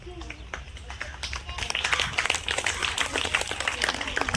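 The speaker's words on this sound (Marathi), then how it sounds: "जोरदार टाळ्या." Audience at a quiz competition breaking into loud, dense applause that swells partway through and carries to the end, preceded by a brief voice.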